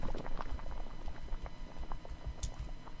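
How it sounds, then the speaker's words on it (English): A pot bubbles on a stove in the game The Witch's House, with a continuous close burble of popping bubbles and soft liquid patter and no voices. "Pot is boiling."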